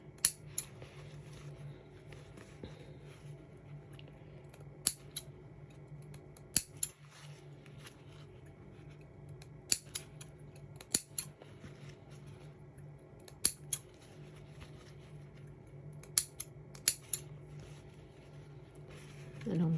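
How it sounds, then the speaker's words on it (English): Scissors snipping into the curved seam allowances of sewn fabric doll diapers, a scattered series of small crisp snips with quiet pauses between, close and soft, with a voice talking over them. "Now we want to do some little snips into these curved bits"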